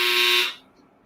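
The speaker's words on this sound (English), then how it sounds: "Someone turned on the alarm on my dryer." An electronic clothes dryer alarm gives a single loud, steady buzzing tone that lasts about half a second, then stops and leaves quiet room noise.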